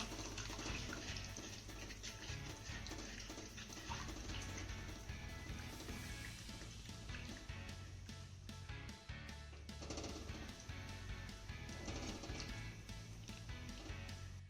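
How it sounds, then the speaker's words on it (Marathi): Curry broth made with ground papad boils in a pot, a continuous loud bubbling and burbling wash that stays close and steady throughout. "इथे आपल्या या रश्याला मस्त अशी उकळी आलेली आहे"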